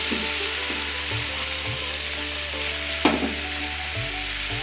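Soya chunks and mixed vegetables stir-frying together in a hot pan, with an intense continuous sizzle, occasional spatula scrapes and a steady low hum behind it.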